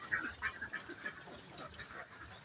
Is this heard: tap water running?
no